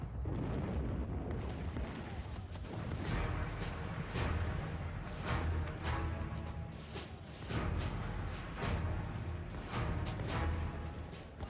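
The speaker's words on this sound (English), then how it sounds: "the Americans heard the roar of cannon behind their lines" Repeated deep booms of cannon fire, sharp reports one after another over a continuous rumbling din, loud and sustained throughout.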